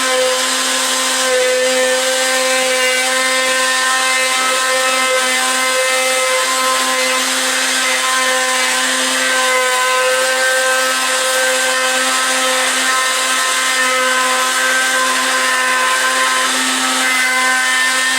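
A wood router runs steadily on a pallet board for a fishing rod rack, a loud continuous high whine with a strong tonal hum throughout, no talk over it.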